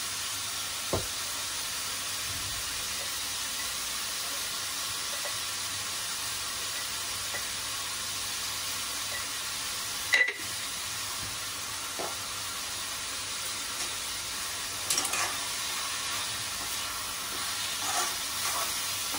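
Chopped onions frying with curry leaves and salt for a prawn masala, a steady soft sizzle and hiss with a few faint clinks of stirring.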